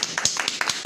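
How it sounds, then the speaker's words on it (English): A short burst of scattered hand claps from a small group, uneven and fairly close, lasting under a second. "Mr. Jonathan Church, let's clap it up, y'all."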